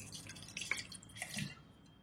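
Water poured into a pot of goat trotters for paya, heard as light dripping and splashing with a few brief liquid splats, close and moderately quiet, with no talk.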